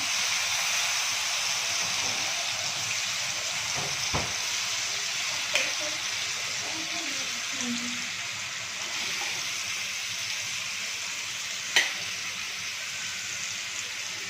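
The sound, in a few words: raw mango sautéing in oil for methamba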